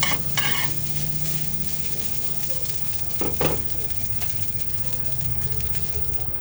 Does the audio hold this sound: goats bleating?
no